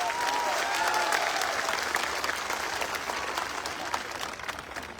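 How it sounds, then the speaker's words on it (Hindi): Audience at a business seminar clapping loudly, a dense burst of applause that gradually tapers off, with faint voices mixed in. "सबसे पहले एक जोरदार तालियां आज आप अपने लिए बजाओ"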